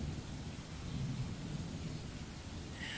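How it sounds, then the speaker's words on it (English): Steady rain with low rolling thunder rumbling throughout, a continuous stormy wash of sound with no voices. "I hear thunder, I hear thunder."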